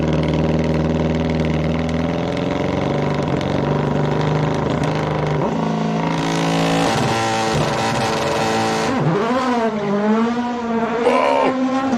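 A race car launching at the SIMOLA hill climb, its engine a loud, continuous raw roar that holds steady, then climbs sharply through the revs with quick gear changes and pitch swoops as it pulls away, no talking.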